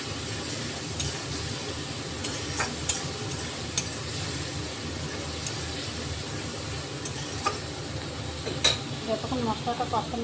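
Spice paste for jackfruit kofta curry frying in a pan: a low, steady sizzle with scattered scrapes and taps of a stirring spoon, moderately close, with no talking.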